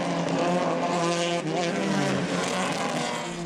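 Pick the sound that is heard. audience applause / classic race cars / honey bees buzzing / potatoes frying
classic race cars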